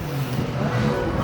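A Mark 1 Golf with a 2-liter 8-valve engine runs with a steady, loud low engine rumble over a short stretch, close by and without talk.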